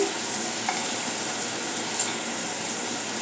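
Chopped tomatoes and cashews sauté in hot oil in a pan for dum aloo gravy, a steady close dense sizzle with faint scraping from stirring.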